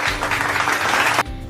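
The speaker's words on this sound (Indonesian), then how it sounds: "Coba mari kita tepuk tangan untuk Ani" Classroom applause during a teaching session, a short burst of dense clapping from students that stops abruptly near the end, leaving a quieter room.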